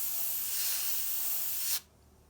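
A continuous airy hiss of an airbrush spraying paint onto a mural for nearly two seconds, then it cuts off abruptly into near silence.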